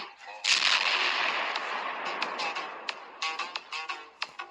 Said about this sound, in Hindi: बाबा उनकी गोली को हाथ से रोक देते हैं और उल्टा उन्हीं पर फायर कर देते हैं